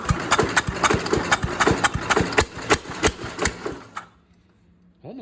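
A Jacobsen Chief 800 tractor engine, long left sitting outside, runs with rapid, uneven firing pulses for about four seconds, then cuts out abruptly, leaving near silence and a brief voice.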